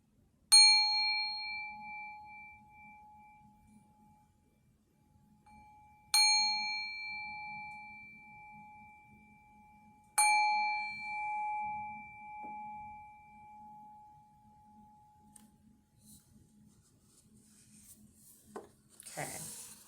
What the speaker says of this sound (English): I'm going to ring my singing bowl.